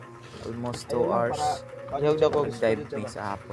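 Dove cooing softly in nature near a spearfishing spot in the Philippines, repeated low coos mixed with other bird calls beneath people talking nearby.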